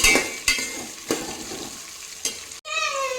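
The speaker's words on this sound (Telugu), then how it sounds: "ఆ తర్వాత పచ్చిమిర్చి, ఈవెన్గా ఫ్రై అయ్యేటట్టు ఫ్రై చేసుకోవాలి." Green chillies frying in a pan for a biryani give a steady sizzle broken by a few sharp utensil scrapes and knocks, ending in a brief gap and a higher ringing tone.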